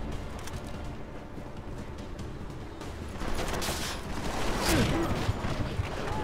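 Rifle fire in Deus Ex: Mankind Divided, a dense run of sharp shots and clattering bursts over ambient noise, growing louder and busier toward the end.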